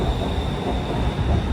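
A BTS Green Line elevated train in Bangkok running from Mo Chit into Saphan Khwai station: a loud, steady rumble of wheels on elevated rail with a faint high whine, continuous through the brief moment, with no voices.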